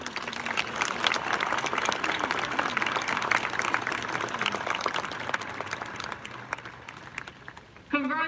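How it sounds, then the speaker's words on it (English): A crowd at a 2021 high school graduation ceremony applauds the graduating class, a thick, continuous roar of clapping that carries on for several seconds before a voice starts speaking at the very end. "Let's just give these students another round of applause."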